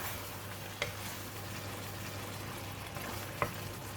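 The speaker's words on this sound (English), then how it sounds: "Alright, just give it a stir." Brinjal stir fry with curry powder sizzling softly in a pan, a steady faint fry with two brief scrapes of the spatula as it is stirred.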